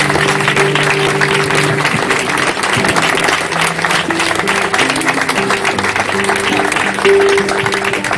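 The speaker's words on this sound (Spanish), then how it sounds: "Así que podemos aplaudir." Congregation applauds at a friar's first religious profession ceremony in a church, steady clapping running throughout while sustained organ or instrumental tones play underneath.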